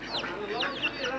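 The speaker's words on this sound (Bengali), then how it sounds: "দেখেন মুরগির মা তার বাচ্চাদেরকে খাওয়াচ্ছে।" A mother hen clucks repeatedly while feeding her chicks at dusk in a village yard, short rhythmic calls close by over faint background noise.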